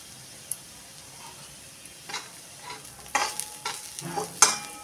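Cashew, onion and poppy seed masala sautéing in a pan, with soft sizzling under scattered stirring scrapes and clinks that grow busier and louder toward the end.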